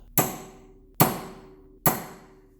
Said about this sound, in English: take a punch and a hammer and stake the nut